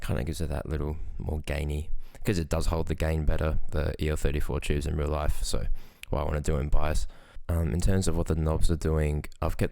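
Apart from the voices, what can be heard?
No everyday noise stands out behind the speech.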